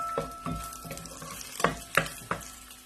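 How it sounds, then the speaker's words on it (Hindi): Whole cumin seeds sautéing in hot oil in a pan, with a steady soft sizzle and several sharp stirring scrapes and clinks recurring at irregular intervals, close and moderately loud. "इसको मैं हल्का सा सौटे करूंगी।"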